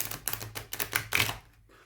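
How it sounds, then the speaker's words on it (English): Rapid, crisp flutters of a gilded-edge tarot deck being riffle shuffled, a series of fast papery clicks in bursts that trail off into quiet. "you're going to need strong hands to riffle shuffle this deck"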